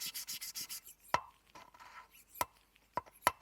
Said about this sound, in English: lift and drop the valve to try and spread the paste a bit more